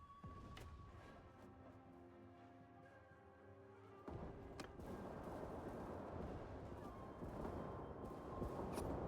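Heavy Ozutsu cannon fire in the samurai battle game Mount & Blade 2 Bannerlord, a few sharp booming blasts over a constant rumbling din of battle and distant shooting.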